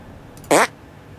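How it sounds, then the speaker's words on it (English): Cartoon fart from the video game South Park: The Stick of Truth, a single short, loud buzzing burst on its own. "Make your fart detonate behind me."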